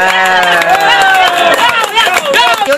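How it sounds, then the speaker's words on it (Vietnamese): A wedding audience claps together in 2006, a crackle of many hands rising over music and voices that continue underneath. The clapping thickens and grows busier toward the end. "vỗ tay, vỗ tay."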